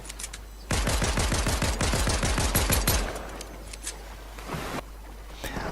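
An assault rifle fires in Fortnite as one rapid, loud burst of about a dozen close shots lasting a couple of seconds, then quieter ambient game noise with a faint later thud.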